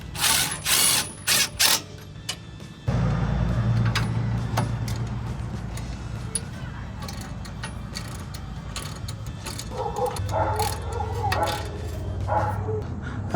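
A ratchet clicks as it tightens bolts on a Ford F-150 front wheel bearing and hub assembly. Quick close bursts of clicking come first, then a steady low hum continues beneath sparse mechanical clicks.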